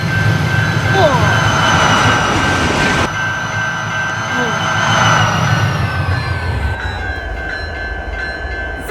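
A CN freight train speeds past, its loud, steady roar full of wheel and rail noise and a sustained high squealing tone, close by and lasting throughout, easing slightly near the end.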